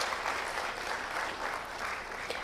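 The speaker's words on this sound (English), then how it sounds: "Can we once again have a great round of applause for the release of the conference souvenirs volume?" An audience at a conference opening ceremony claps steadily in a continuous, fairly faint wash of applause heard from a distance, without voices.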